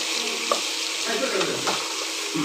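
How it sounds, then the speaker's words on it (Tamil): Tomato, onion, green chili, fennel and garlic sauté in a hot pan, giving a steady close sizzle with a few scraping stirs and small pops scattered through, no voices. "தக்காளி, வெங்காயம், பச்சை மிளகாய், சோம்பு, பூண்டு எல்லாம் போட்டு நல்லா வதக்கணும்."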